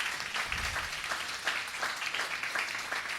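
A church congregation applauds during a doctrine service to honour a teacher, a moderately distant, steady patter of clapping with no clear voices.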